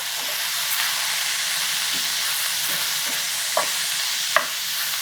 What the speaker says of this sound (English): we're going to saute those mushrooms along with the onions and garlic